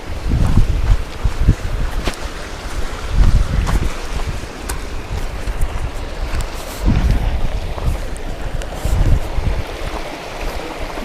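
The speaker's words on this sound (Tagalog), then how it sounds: "May ilog." A river flows steadily outdoors, a broad continuous wash of water with gusty wind buffeting the microphone in repeated low bursts, no voices.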